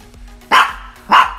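A dog gives two short, loud barks about half a second apart, close by, with no talking over them.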